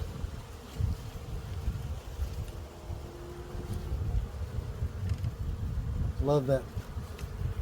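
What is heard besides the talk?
honey bees buzzing at an open hive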